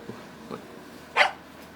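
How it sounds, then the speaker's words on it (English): Dog barking in the horror video game Tiny Bunny: a few soft yips followed by one louder, sharper bark, set against a quiet, dark background with no talk. "The dog jabbed in agreement."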